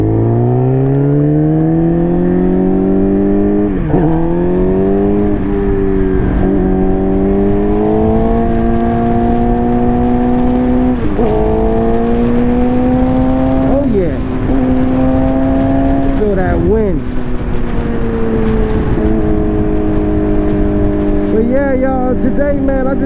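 A Suzuki GSX-R 600 motorcycle engine revs loudly and continuously, its pitch climbing and dropping through a series of throttle blips, with a strong steady drone running underneath the whole time.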